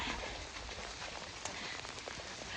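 Steady rain drumming on surfaces near a nipa hut shelter, a dense continuous patter with scattered louder drops, close and alone with no voices.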